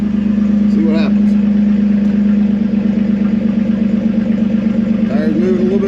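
A vehicle with a custom driveline runs with its rear transfer case in low range, a loud, steady engine drone with a strong low hum, while someone talks over it.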